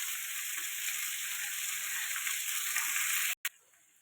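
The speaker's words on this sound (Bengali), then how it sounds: "আলু আর পুঁই শাকটা দিয়ে দিলাম। এটা ভালো করে কষাবো।" Potatoes and Malabar spinach fry in a pan with a steady, hissing sizzle that runs unbroken and close, cutting out briefly just before the end.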